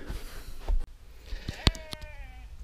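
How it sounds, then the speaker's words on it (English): Sheep bleat near a car campsite, with one clear wavering call in the middle and fainter bleats around it, over a quiet outdoor background. "Noisy sheep."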